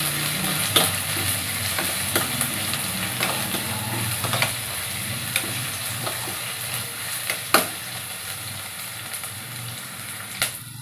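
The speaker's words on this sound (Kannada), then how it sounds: "ಎಲ್ಲ ಹಾಕಿ ಇದನ್ನು ಚೆನ್ನಾಗಿ ಫ್ರೈ ಮಾಡ್ಕೋಬೇಕು." Onions and curry leaves fry in a pan with a loud, continuous sizzle, while a spatula stirs them and adds sharp scraping clicks every second or so.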